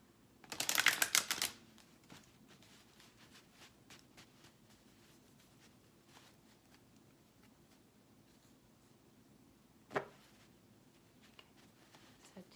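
A brief, loud burst of riffled cards near the start, then quiet room tone with a single sharp tap later on.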